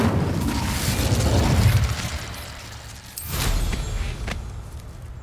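Incendio fire spell cast in Hogwarts Legacy: a loud, broad fiery rush and rumble, easing, then a second sharp burst that swells and fades away.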